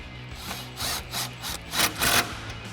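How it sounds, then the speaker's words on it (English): An impact wrench with a 10 mm socket and extension drives a bolt on a cold air intake for a 2019-2024 V8 GMC Sierra 1500, giving several short loud buzzing bursts close by with a steady low hum beneath. "We'll use our 10 mil socket and extension on our impact to tighten that back down."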